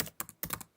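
A handful of quick computer keyboard keystrokes typing a search term, close and fairly soft, in an uneven burst of clicks with short gaps.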